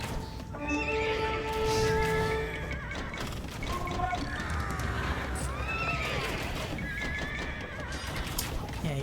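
Horses neigh and whinny repeatedly over a dense clatter of hooves as a mounted army of horse archers charges in Age of Empires 2, with busy battle noise filling the background and a voice speaking faintly underneath.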